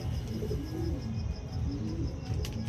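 Andhra pigeons coo steadily and loudly at close range, with repeated low throaty calls over a constant background din.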